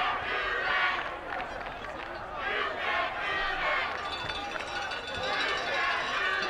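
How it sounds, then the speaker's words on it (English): A small home crowd at a Friday night high school football game gets loud and raucous, with cheering and shouting swelling in waves from the stands while an announcer talks over it. "the Newton crowd, what little there is, got a little loud and raucous"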